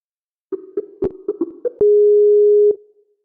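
A telephone busy signal sounds as a callback fails on a Skype call, opening with several short pulsed tones and then one loud, steady, clean tone held for about a second before cutting off.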